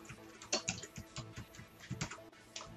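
A meeting ID is typed on a computer keyboard as a quick, quiet run of close key clicks in an uneven rhythm.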